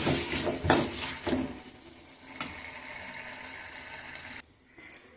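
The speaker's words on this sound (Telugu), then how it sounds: "చింతపండు పులుసు వేసుకొని ఇలా మిక్స్ చేసుకొని" Tamarind juice pours into a pan of cucumber curry, giving a splashing, gurgling liquid sound with a few sharp clatters early on, then a steadier trickle that stops abruptly near the end.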